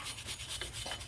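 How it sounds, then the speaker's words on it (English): A brush scrubs rust off front brake parts on a 2013 Chevrolet, a short close run of rasping back-and-forth strokes. "I brush to clean up the rust as much as I can."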